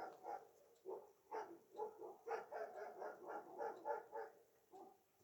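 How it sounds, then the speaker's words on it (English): Dogs barking outdoors in an uproar, a rapid series of repeated barks at a steady rhythm, faint and distant across the open air. "All the dogs are in an uproar."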